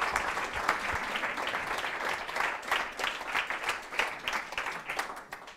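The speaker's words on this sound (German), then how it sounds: "bitte mit einem großen Applaus" An audience at an evening information event on vaccination and law applauds to welcome speaker Daniel Trapitsch, with dense, sustained clapping from many hands that fades slightly at the end.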